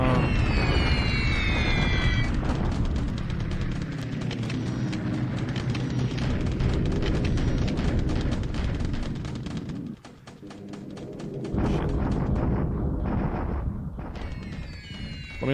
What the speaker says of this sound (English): More bombing in Qatar.